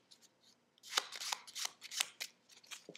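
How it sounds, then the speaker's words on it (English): Playing cards given an overhand shuffle, a close, crisp run of riffling slaps and flutters in uneven quick bursts, fairly quiet with no voices. "First one's an overhand shuffle."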